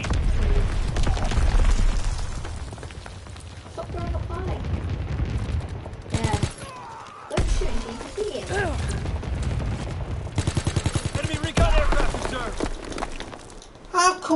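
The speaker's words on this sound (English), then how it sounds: "Incoming enemy artillery." Incoming artillery and gunfire in Call of Duty WWII, heavy booms and rumbling explosions with bursts of rapid gunfire, players talking over the battle throughout.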